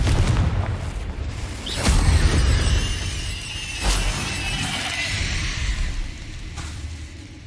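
Confringo fire-blast spells exploding in Hogwarts Legacy, a few sharp booming bursts with shattering crackle and whooshing tails, spaced a couple of seconds apart over a steady low rumble.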